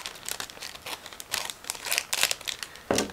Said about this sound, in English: And now I'm going to cut through this bag because it's a sealed plastic bag,